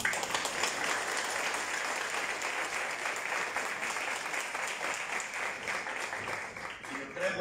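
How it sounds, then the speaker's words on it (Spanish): Audience applause at a Children's Day press event on a farm, sustained crowd clapping with a steady texture, tapering slightly near the end, with faint voices mixed underneath. "debíamos darle un aplauso"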